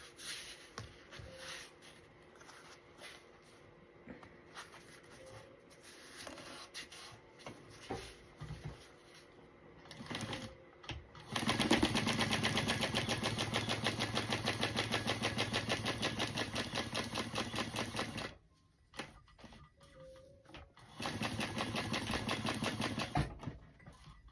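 A sewing machine stitches a card slot on a handmade wallet, running in long steady bursts of rapid mechanical clatter that stop briefly in the middle and then resume, close and loud, with no talk.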